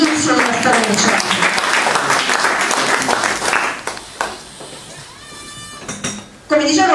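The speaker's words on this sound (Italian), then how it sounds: "facciamo un grande applauso anche alla storia, all'inizio della storia del centro" Loud audience applause at an anniversary celebration event in Italy, dense clapping that thins out midway before a voice and a renewed burst near the end.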